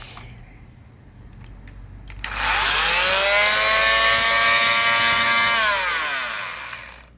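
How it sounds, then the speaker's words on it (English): An oscillating multi-tool cutting into material for a laptop fan modification starts abruptly after a quiet stretch, then holds a loud, steady buzzing whine for several seconds before winding down near the end. "Alright, so far the oscillating tool cut it like this so far."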